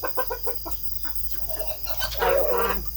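Farm chickens cluck in short repeated bursts close by, with a louder, busier flurry of clucking near the end over a steady background hum.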